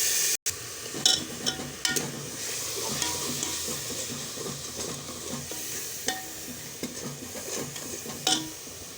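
Steady sizzling and frying of spice paste (masala) in a pan, with occasional stirring scrapes and clinks, close up and continuous with no talking.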